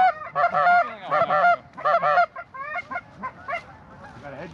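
A flock of geese honks overhead during a goose and duck hunt in Pennsylvania, loud clustered calls in quick bursts that thin out and fade as the birds pass.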